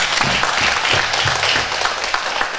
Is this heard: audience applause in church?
yes